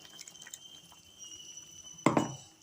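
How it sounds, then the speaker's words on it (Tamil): Ground coconut and fennel paste poured into a simmering mutton curry with drumsticks and radish, a single short, close splash and slop arriving near the end after quiet background. "தேங்காயும் சோம்பும் போட்டு அரைச்சது நம்ம ஊற்றி"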